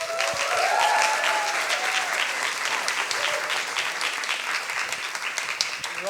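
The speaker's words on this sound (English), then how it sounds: "Big applause for Andrew." Audience applause at a science slam event in Berlin, a dense, steady clapping from a large crowd that fills the room and continues unbroken for several seconds.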